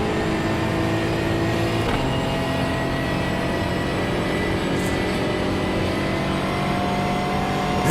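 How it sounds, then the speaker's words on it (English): A race car engine in the iRacing sim at Daytona drones loud and steady with a sustained tonal whine, holding one even pitch throughout and rising slightly at the very end. "which you can just barely hear over the engine."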